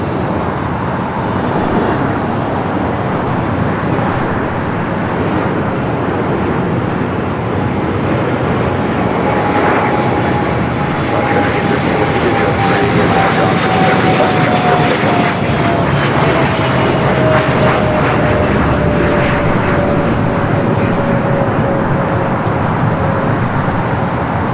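A Delta Airlines heavy jet arrives at LAX toward runway 24 right, a loud continuous engine roar with a slowly falling whine that stays steady throughout, close and dominant with no talk.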